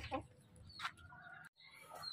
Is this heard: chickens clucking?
yes